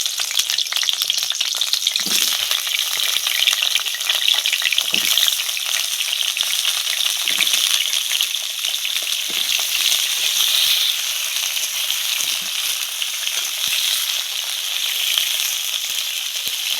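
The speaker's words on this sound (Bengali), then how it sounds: "মাংসের আলুগুলো ভাজার জন্য তেল দিয়ে দিচ্ছি কড়ায়" Potatoes for a meat curry frying in oil in a wok, a loud continuous sizzle close by with bursts of spattering and stirring scrapes, no talking.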